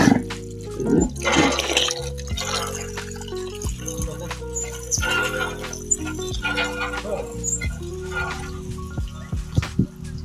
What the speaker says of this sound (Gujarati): તો મિત્રો અહીંયા હજી ડંકી ચાલુ છે